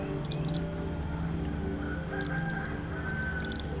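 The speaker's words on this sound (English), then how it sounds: "I just heard a rooster in the soundtrack" A rooster crowing within the soundtrack of the puzzle game Antichamber, a couple of drawn-out crows and clucks set against a sustained droning musical background, moderately loud and continuous.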